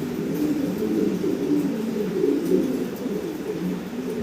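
Fancy pigeons, including Spanish and giant homer types, cooing in a loft, with a chorus of low rolling coos overlapping continuously at close range.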